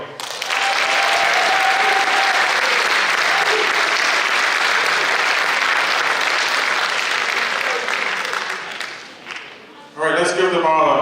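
An alumni day audience gives a long round of applause for faculty honorees, a dense, even clapping that runs for several seconds, dips briefly, then gives way to a voice talking.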